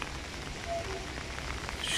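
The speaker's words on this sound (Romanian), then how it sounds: "Deja s-a pus ploaia foarte, foarte tare" Heavy autumn rain falls steadily in a city park, a dense, even hiss of drops with no break throughout.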